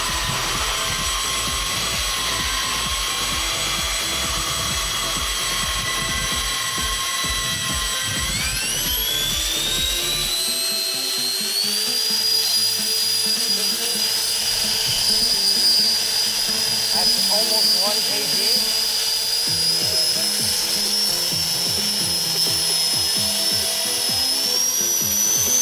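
Two electric ducted fans on a thrust test stand set on a scale build a loud, steady high whine that climbs sharply in pitch partway through and then holds at the higher level.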